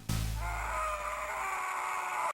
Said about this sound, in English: this particular blood-curdling scream whenever you fall into a pit